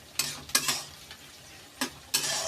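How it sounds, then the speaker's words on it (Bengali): Capsicum stirred in a frying pan for a spinach chicken dish, with soft sizzling under a few sharp broadband scraping strokes of a utensil spaced apart, close and moderately loud. "তাই আমরা বারবার করে নাড়াচাড়া করবো এটাকে, যখন না ক্যাপসিকামটা পুরোপুরি গলে যাচ্ছে"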